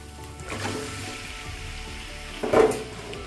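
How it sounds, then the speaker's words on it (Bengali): Chicken added to spiced masala and frying on high gas, a steady close sizzle with a louder burst of spattering near the end, no voices. "তো গ্যাসটাকে এখন হাই করে দিলাম, ভালো করে কষিয়ে তারপরে গ্যাস লো করে ঢেকে দেবো।"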